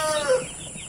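Chickens in a broiler chicken house give a brief, fairly close cluck with a rising tonal call, about a second long over a faint background.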